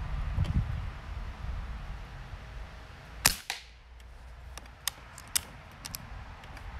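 A Diana Stormrider air rifle fires outdoors during backyard plinking: one sharp crack stands out, then a few fainter snaps scattered over steady wind and hiss.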